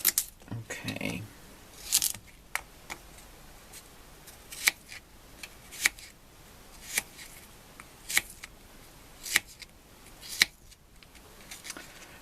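Vegetables being sliced into small strips for a vegetable soup: a steady series of sharp, close chopping clicks roughly every second, fairly quiet, with no talking.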